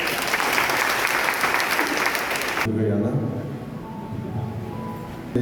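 A church congregation claps for two newly sworn-in trustees at a cathedral ceremony, giving dense, loud applause that stops abruptly halfway through, followed by a quieter room where a voice begins speaking.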